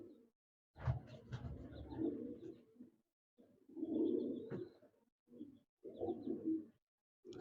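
Breeder pigeons from a master fancier's bloodline coo in low, rolling bursts close by, several separate phrases with short pauses between them and an occasional faint chirp.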